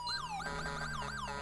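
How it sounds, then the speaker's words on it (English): A police car siren from the FiveM game wails in rapid up-and-down sweeps, a bright electronic yelp repeating several times in quick succession, loud and alone. "you can turn on your lights and sirens"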